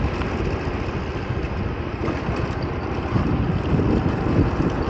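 A 2024 Honda PCX 125cc scooter engine hums while riding downhill, a steady, low drone mixed with wind rush throughout.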